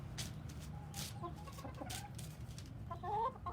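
Hens clucking softly in a zoo flock, with scattered short calls and a brief burst of higher squawks near the end over a low background hum.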